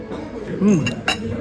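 Glasses clink together in a toast at a resort meal in Cancun, a couple of quick bright taps close by amid speech.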